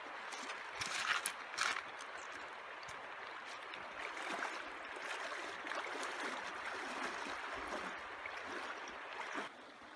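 Water flows in a fast-rising river along a hiking trail, a steady rushing wash with faint splashes, heard alone at moderate distance.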